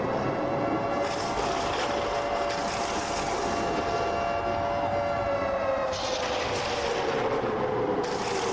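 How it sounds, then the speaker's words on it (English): Stadium siren blares after a successful kick at an indoor football game, Tampa Bay Typhoon at Pittsburgh Roughnecks, a loud sustained wail holding steady then sliding lower near the end, with crowd noise beneath. "let the siren play for the first time tonight."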